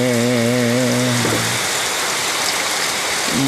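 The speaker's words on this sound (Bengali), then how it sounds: "বৃষ্টি ঝরে দেখিতে বহুত মজা লাগে রে।" Steady rain hiss fills the clip, with a tonal hum in the first second and a half that briefly returns near the end.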